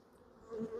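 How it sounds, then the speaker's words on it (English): Honey bees buzz around a beekeeper during a hive inspection, a brief rising drone that grows louder toward the end of the short stretch, with no talking. "So the flying bees have made their way up. You can see they're starting to batter me now."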